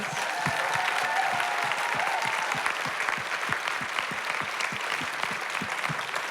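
A full audience applauds steadily at a literary festival keynote conversation, dense and sustained clapping from a large crowd filling the whole stretch.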